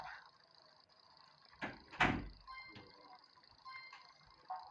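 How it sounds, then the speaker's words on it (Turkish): A door indoors at home, heard faintly at a distance: a soft knock and thud followed by a brief muffled rattle, set against a quiet, steady background hum. "kapı sesi duyuyorum"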